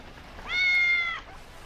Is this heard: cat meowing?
yes